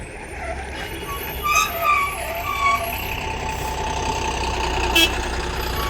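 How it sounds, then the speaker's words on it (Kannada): A KSRTC Rajahamsa non-stop bus pulls out of the bus stand with a low diesel rumble, a hiss of air brakes and a few sharp bursts, all in a busy terminal with background noise. "ಈ ಟೈಮಲ್ಲಿ ಶಿವಮೊಗ್ಗ ದಾವಣಗೆರೆ ನೋಡಿ ನಾನ್ ಸ್ಟಾಪ್ ಗಾಡಿ ರಾಜಹಂಸ ಗಾಡಿ ಬಿಟ್ಟಿದ್ದಾನೆ"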